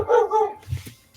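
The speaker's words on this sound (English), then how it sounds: "wow, dogs." A few dogs bark and yip during a tabletop role-playing session, a short burst of close barks that fades into low, muffled sounds, with no talk over it.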